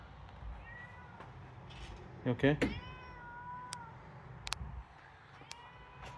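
A cat meows several times, close to the microphone, one louder cry and a few softer ones, against a quiet background while a person speaks briefly.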